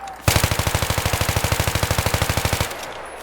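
Rapid automatic gunfire from the Battlefield 3 video game: one loud, steady burst of evenly spaced shots lasting a couple of seconds, then stopping.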